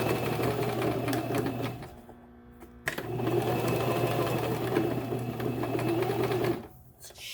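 A sewing machine stitching a wig runs in two steady, close bursts of rapid mechanical whirring, separated by a brief pause, then stops near the end.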